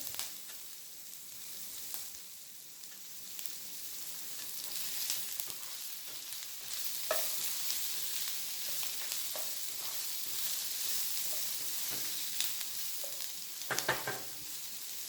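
Seafood fries in hot oil in a pan, a constant bright sizzle with a dense crackle, close and steady. Occasional light taps and stirring knocks break through the sizzle, with no talking.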